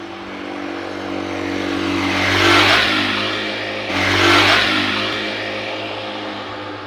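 A motorcycle engine revs twice in close succession, each rise and fall lasting a couple of seconds over a steady idle, loud and near.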